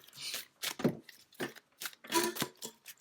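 Tarot cards are shuffled by hand in short rustling bursts, about six separate riffles and slides spread over a few seconds, close and fairly quiet, with no talking.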